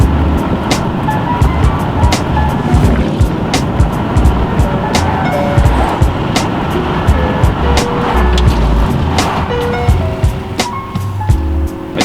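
A 2010 Nissan Altima with newly replaced rear brake pads and rotors rolls along at low speed with a steady engine and road rumble, small clicks and knocks scattered throughout, no talking.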